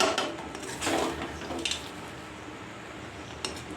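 A utensil scrapes and clinks in a pan as fried peanuts are mixed into dalia upma, giving a few soft, close stirring scuffs that fade into quiet.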